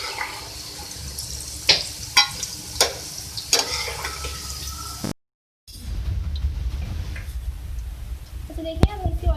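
Okra (bhindi) frying in oil for a Hyderabadi fry bhindi dish, a steady close sizzle broken by sharp scraping stirs, a brief cut to silence, then sizzling resumes while someone talks throughout.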